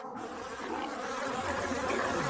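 A dense swarm of bees buzzing steadily and loudly, a thick continuous drone that holds without pause throughout.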